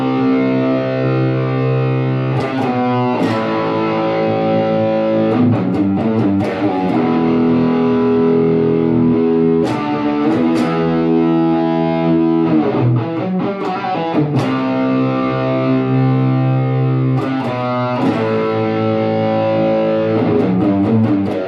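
Heavy distorted electric guitar riff, played loud and alone in chugging chord bursts with brief pauses and sharp attacks, thickened by effects and reverb.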